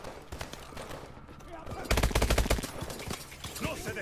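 Gunfire in Call of Duty: Advanced Warfare: scattered shots at first, then a loud rapid burst of automatic fire, with more shots trailing after. A voice talks over the start.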